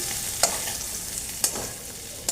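Chunks of young jackfruit frying in mustard oil in a pan, a steady soft sizzle broken by two sharp clinks of a utensil as pieces are stirred and lifted out.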